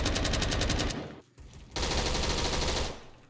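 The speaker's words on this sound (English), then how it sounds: "Let me pick up this Scar L just as a comparison." Scar L rifle fires in rapid automatic bursts in the Phantom Forces video game, a loud sustained burst that breaks off briefly and then resumes, with no voices.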